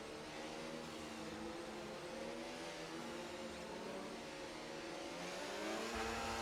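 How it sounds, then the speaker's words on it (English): A McLaren race car in a sim racing game, racing at Singapore, drones steadily with a sustained engine note at low level that rises slightly near the end, with no talk over it. "Control now will go quiet to appreciate the engine notes of the McLaren"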